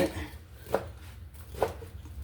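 Hotel-made parotta is chopped into small pieces on a board, three sharp knife strikes spaced about a second apart against low background noise.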